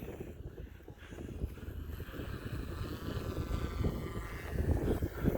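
A Yuneec Q500 4K Typhoon drone passes by at sundown, its propeller whine rising and swelling over a few seconds amid a wind-buffeted outdoor rumble.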